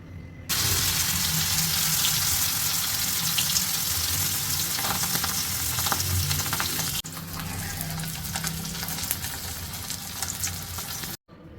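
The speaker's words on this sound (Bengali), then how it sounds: "তেল দিয়ে দিচ্ছি, মাছটা ভাজবো এই কারণে।" Pangas fish fries in hot oil in a wok, a loud continuous sizzle and crackle with occasional stirring and spattering, steady from start to finish.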